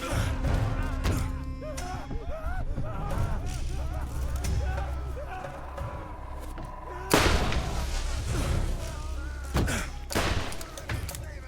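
Gunfire and thumping impacts in the video game Borderlands GOTY Edition, bursts of shots scattered through the clip with a heavy cluster near the end, mixed with game effects and a person talking over the action.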